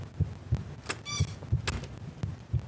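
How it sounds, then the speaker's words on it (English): A heartbeat effect in a horror video game pulses in a slow, steady double-thump rhythm, with brief squeaky game sounds layered over it. "Oh, there's a heartbeat again."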